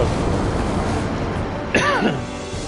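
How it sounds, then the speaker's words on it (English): A single short throaty cough bursts out once against a steady background hiss, brief and fairly close, during Final Fantasy X gameplay. "Look at why I'm coughing all of a sudden."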